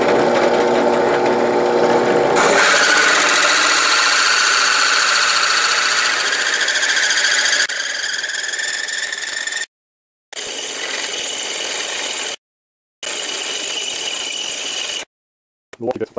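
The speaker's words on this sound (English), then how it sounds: "And continue drilling." Milwaukee drill bit boring into a steel knife blank, a loud steady whine and grind at close range that stops and restarts in several bursts with brief silent gaps.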